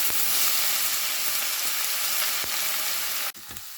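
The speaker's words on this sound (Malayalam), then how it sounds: "ഇത് ഒരു പാൻ അടുപ്പത്ത് വെച്ച് എണ്ണ ചൂടായി കഴിഞ്ഞ് കഴിഞ്ഞപ്പോൾ നമ്മളെടുത്ത് വെച്ചേക്കുന്ന സവോള നമുക്ക് അടിയിൽ എടുക്കാം" Sliced onions sizzle steadily in hot oil in a pan, a loud, dense, continuous frying hiss that cuts off abruptly near the end, with no voices.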